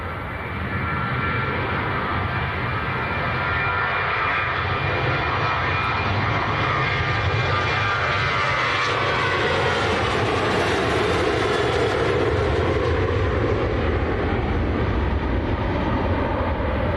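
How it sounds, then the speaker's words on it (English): A Biman Bangladesh Boeing 787 Dreamliner jet from Sylhet at Manchester Airport, a loud, continuous engine roar that swells slightly as the aircraft draws nearer and passes. "So this is Bangladesh 787 Dreamliner from Sylhet."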